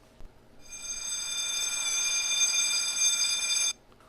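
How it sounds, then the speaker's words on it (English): A loud, steady electronic bank alarm rings continuously with a piercing tone, starting suddenly and stopping abruptly after about three seconds. "they hear the alarm go off at a nearby bank"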